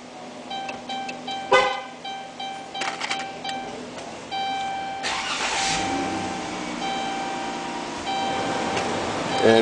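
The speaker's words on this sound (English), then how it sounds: "we can start the vehicle" A vehicle is remote-started through a Revo Start long range RF antenna kit wired to a Fortin EVO-ALL module. Short electronic chirps come first, then the engine cranks, catches and settles into a steady idle close by.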